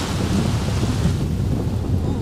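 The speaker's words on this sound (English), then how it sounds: "This thunderstorm is annoying." Thunderstorm in The Sims 3 with Pets and Seasons: a steady, loud wash of rain and low rumbling thunder filling the whole stretch without a break, and no voices over it.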